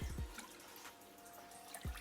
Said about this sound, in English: is just scoop some water on them occasionally